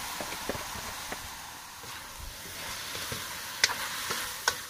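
Vegetables fry in a pan as oyster sauce is stirred in, producing a steady soft sizzle with occasional scraping stirs and light clicks of a utensil, close and moderately quiet.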